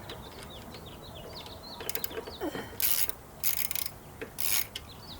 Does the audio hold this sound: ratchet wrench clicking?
yes